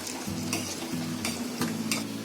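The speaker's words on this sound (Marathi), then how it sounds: "हे आपल्याला मिल्क पावडर आणि कॉर्नफ्लॉवरची पेस्ट ओतायची आहे आणि धार द्यायची आणि ढवळत राहायचा" Milk with a milk powder and cornflour paste being stirred in a pan for shahi tukda, a series of spoon taps and scrapes against the vessel over a low steady hum and bubbling, close and moderately loud.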